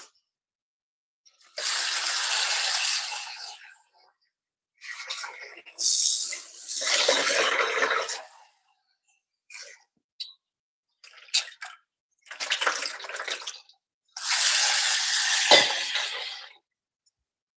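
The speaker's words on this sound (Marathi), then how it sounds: "तर आता हे सुरण मी धुवून घेते." Pieces of cut elephant foot yam are washed in water in a home kitchen, giving several separate bursts of close splashing and clinking with quiet gaps between them.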